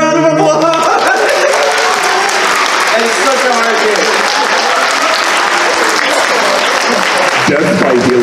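Audience applause at a furry convention charity show, dense and loud from start to finish, with cheering and voices mixed through the crowd noise.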